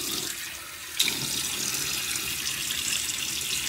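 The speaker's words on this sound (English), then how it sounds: "Let me get my face wet." Water from a tap runs steadily into a sink to wet a face before shaving, a continuous close hiss with a small splash near the one-second mark and no voices.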